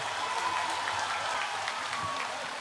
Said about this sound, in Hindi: हमारे सम्मानित अतिथि यहाँ पर है उन सब की स्वागत में और एक जोर से तालियां हो जाए।